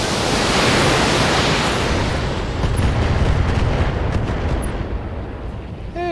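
A mech weapon fires in the BattleTech video game, a loud sustained roaring blast with rumbling noise that holds across the whole stretch and slowly tapers near the end.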